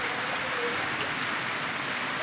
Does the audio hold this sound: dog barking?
no